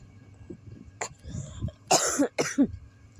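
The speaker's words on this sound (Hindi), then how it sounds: "खांसी मेरी अभी भी बंद नहीं हुई है" A woman with a lingering cough coughs several times in quick succession, close and fairly loud, with a short throat-clearing sound before the harsher bursts.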